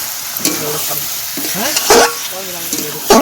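Curry heating in a hot pan with a soft sizzle while a spatula scrapes and stirs in uneven, close strokes, a few sharp metallic scrapes standing out.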